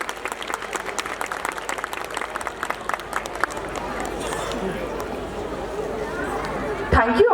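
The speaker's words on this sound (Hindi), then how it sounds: "जोरदार तालियां।" Audience applause at a school annual day, steady clapping from a large crowd mixed with chatter and babble throughout.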